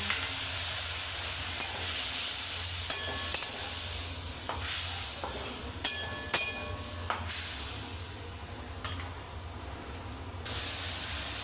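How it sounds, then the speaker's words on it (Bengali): Soaked spices hit a hot pan after fried potatoes, sizzling steadily while a utensil scrapes and clacks against the pan in scattered strokes, close and fairly loud with no talking. "এখন আমি ভিজিয়ে রাখা মশলাগুলো দিয়ে দিলাম"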